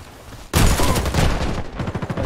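A grenade thrown and exploding in the Warface shooter, one sudden loud blast followed by a rapid rattling burst of gunfire.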